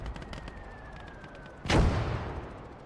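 A single loud gun blast rings out in Gates of Hell: Ostfront, a World War II strategy game, over a steady low battle rumble, followed by a long fading tail.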